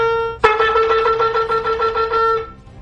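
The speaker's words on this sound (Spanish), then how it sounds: "Terúa son 9 notas pequeñas en rápida sucesión, que simbolizan un sonido de alarma." A shofar sounds teruah, a rapid run of about nine short, loud staccato notes that start abruptly and keep a steady bright horn tone, with no voices.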